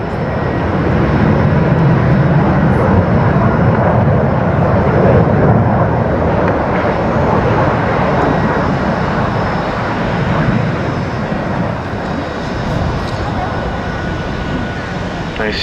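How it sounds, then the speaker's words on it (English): A Blackburn Buccaneer jet roars loudly past at an air display, a broad sustained engine rumble with a commentator speaking over it. "You see as Glenn Mason brings the Buccaneer around, he'll be rolling that Bombay close."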